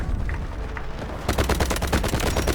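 Rapid automatic gunfire from an M250 heavy machine gun in the shooter game Delta Force, starting abruptly after a quieter stretch and continuing as a dense, loud burst of closely spaced shots.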